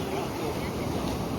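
Strong sea waves roll and wash along the shore in Keri, Goa, a broad, continuous roar with wind buffeting the microphone throughout.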